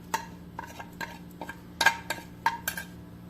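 A spoon clinks and scrapes against a bowl while aloo paratha filling of potato, green chilli, coriander and mint is mixed, giving close, irregular taps and knocks spread over a few seconds in an otherwise quiet room.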